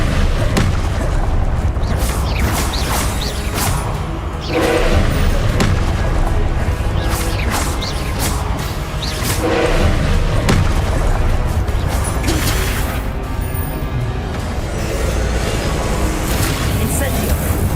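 Confringo and Incendio spell blasts going off in Hogwarts Legacy: heavy, booming impacts and fiery bursts recur throughout, layered dense and loud over a constant rumbling game background with a voice talking.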